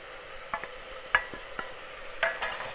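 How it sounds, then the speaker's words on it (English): Goat curry spices with garlic and ginger fry in a pan, a steady sizzle broken by several sharp scraping stirs of a spoon against the pot, close and fairly loud, with no voices. "Now we're going to add in all our spices."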